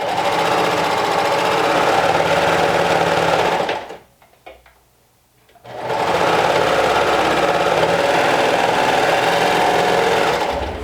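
Sewing machine stitching a garment sleeve, a loud steady close buzz that stops for about two seconds, then resumes just as loud, with no talking.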